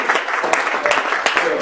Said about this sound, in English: So give yourself a hand clap.